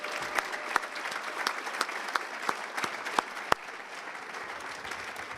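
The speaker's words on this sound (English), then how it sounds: "one more round of applause for all our awardees this evening" Applause from the audience at an evening awards gala, a dense room-filling clatter of many hands with sharp individual claps standing out, steady throughout and slowly thinning toward the end.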